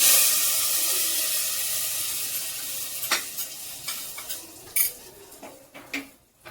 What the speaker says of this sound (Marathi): आता तडका देऊ आपण